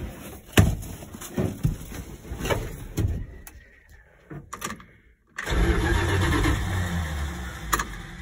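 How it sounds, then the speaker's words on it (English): Engine of a 1977 Dodge W100 Stepside pickup cranking over for a few seconds, dropping briefly into near quiet, then catching and settling into a steady loud idle, heard close by. "we'll go in here and see if she wants to crank over with that setup there or not"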